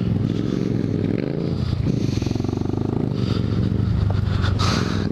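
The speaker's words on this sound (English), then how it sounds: "his boy on what looks like a KLX 110 or something like that, a little Kawasaki dirt bike, just whipping around some trails" A small Kawasaki KLX 110 dirt bike whipping around off-road trails, its engine buzzing and revving up and down continuously over some scraping and clatter, fairly close and loud.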